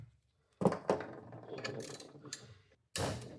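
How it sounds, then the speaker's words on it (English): A swivel wrench ratchets on a tight bolt of a 2015 Ski-Doo snowmobile engine short block, making two bursts of rapid, close mechanical clicking separated by a moment of silence, with no voices. "Got a swivel wrench in here"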